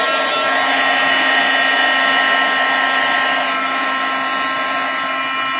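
A heat tool blows steadily while warming acetate coated with embossing powder, a constant close, loud whooshing hum with a high whine that holds for several seconds without break.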